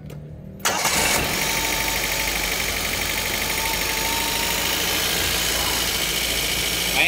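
A Toyota 2E car engine starts after a brief quiet, then settles into a loud, steady, close-up idle that runs on without a break.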